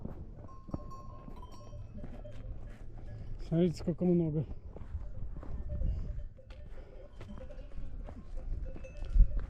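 A mixed flock of sheep and donkeys outdoors near Demre, Turkey: a donkey bray rises in the middle amid shuffling hooves and faint bleats, with people talking over it.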